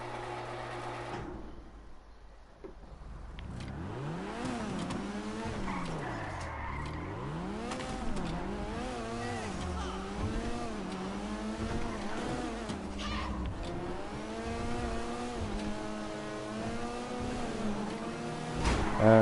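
Grand Theft Auto V's GB200 sports car engine is driven in-game, its pitch climbing and falling through repeated gear changes in a steady, loud, up-close run with no talking.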